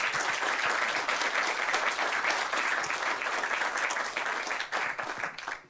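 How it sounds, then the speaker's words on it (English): Sustained applause from a crowd, steady and dense for several seconds before thinning slightly toward the end. "let's give them a round of applause."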